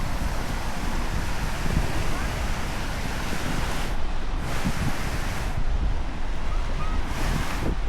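Ocean waves wash onto Kota Beach in Cebu, a continuous loud surf rush mixed with wind buffeting the microphone and swelling in a few gusty surges.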